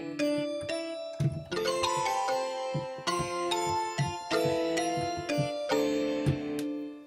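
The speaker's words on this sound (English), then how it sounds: "I used the guitar Dirty 56 Strat, turned the level down quite a bit on that one. I used the Octave Kalimba Plus on the mallets and the Bright Bells" Layered synth sounds for a future pop track: a Dirty 56 Strat guitar patch at low level, Octave Kalimba Plus mallets and Bright Bells, ringing together in bright, chiming, rhythmic plucks and bell tones.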